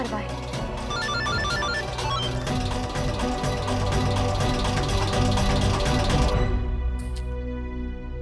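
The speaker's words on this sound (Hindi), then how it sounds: "आनंदी मेरा फोन क्यों नहीं उठा रही है?" A telephone rings steadily over a loud, constant mechanical hum, then cuts off abruptly near the end.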